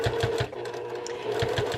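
Sewing machine stitches a patchwork bag in short close bursts of rapid needle rhythm, pausing briefly in the middle before running again.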